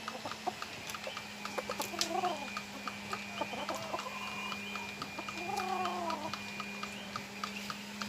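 Chickens on a small Filipino poultry farm, a breeding group of two roosters and four hens, cluck in repeated nearby bursts over a steady mechanical hum and scattered ticking and tapping.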